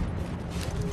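A grenade detonates in The Division, a dense, sustained low rumble with rolling debris filling the whole moment at steady loudness, no distinct voices over it.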